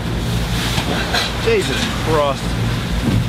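Strong wind gusts of 30 to 40 knots roar across a sailboat's microphone off the coast of southern Italy, a constant close rush under a man's startled exclamation.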